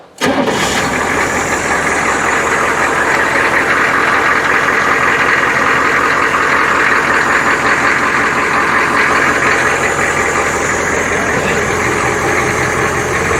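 A truck's 6.5-litre diesel engine idles steadily close by, a constant rumbling clatter that holds at the same level after a brief start.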